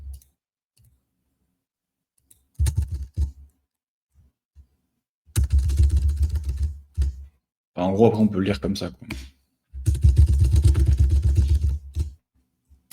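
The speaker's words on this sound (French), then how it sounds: "là, vous m'entendez bourriner le clavier" Hard, rapid typing on a computer keyboard comes in three dense bursts of clattering keystrokes, close to the microphone, with someone speaking French between them.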